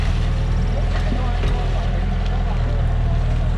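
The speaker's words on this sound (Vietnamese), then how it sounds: "Đang nổ máy, đang làm nội đồng này." A heavy diesel engine of a Komatsu PC75 excavator runs steadily with a low, throbbing rumble, continuous and close, with some faint background noise.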